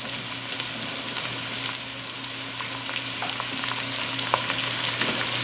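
Onions with a pinch of salt sweat in a pan for chili with beer and chocolate, giving a steady, close sizzle and gentle frying crackle with occasional soft stirring clicks, no voices.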